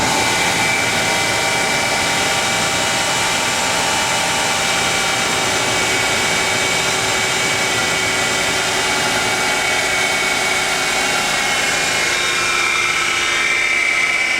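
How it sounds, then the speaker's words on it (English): A car's AC compressor runs nonstop over the engine, a loud, steady whirring drone with a high whine on top, constant throughout with no talk. "Gotta love the noise that AC compressor's making."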